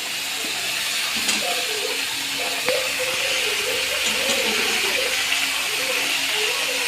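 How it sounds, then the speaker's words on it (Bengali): Bottle gourd stalks and potatoes sizzle in hot oil in a kitchen pan with a steady, broad hiss. Someone talks over the frying throughout. "এখন আমি গরম হয়ে গেছে লাউ ডাটাটা আর আলুটা আমি দিয়ে দিলাম"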